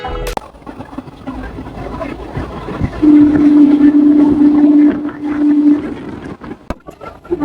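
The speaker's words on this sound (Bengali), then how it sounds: "জোরে ট্রেন চলছে" A passenger train runs fast, heard from inside an S3 coach as a loud, steady rumble and rattle of the wheels, with a long drawn-out whistle tone sounding through the middle and no talking.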